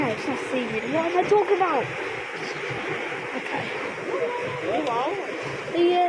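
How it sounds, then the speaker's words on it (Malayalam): Water splashes and rushes steadily throughout inside the Crystal Grotto at Painshill, England, with voices talking over it now and then. "തെറിക്കുന്നു, വെള്ളം തെറിക്കുന്നു."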